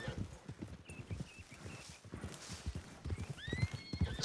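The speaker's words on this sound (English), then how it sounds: "It's a lovely horse to see around these parts." A Kentucky Saddler horse in Red Dead Online whinnies with rising, squealing neighs over steady hoof clip-clop, fairly faint and close, with no talking.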